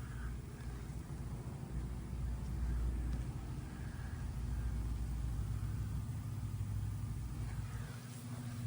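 A 2008 Toyota Tundra with a stainless 2.5-inch dual exhaust and no muffler runs steadily, giving a loud, deep, rumbling idle that holds without pause throughout.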